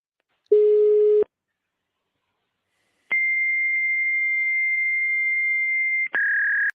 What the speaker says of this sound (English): That is the sound of old school internet.